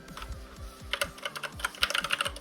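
Clicky mechanical keys clatter in quick, uneven bursts, close and crisp, with no voices.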